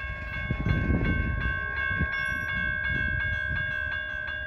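A southbound train passes, with a steady rumble of wheels on rail and a sustained tonal whine overhead, moderately loud and continuous throughout, with no speech.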